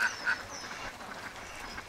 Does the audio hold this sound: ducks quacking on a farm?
yes